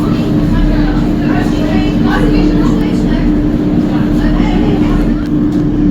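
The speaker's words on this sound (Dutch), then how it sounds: "Dit is de metro naar Kappelsebrug." Steady, loud rumble and hum of a Rotterdam metro train on line C bound for Kappelsebrug, heard from inside the car with a constant low drone and faint voices beneath.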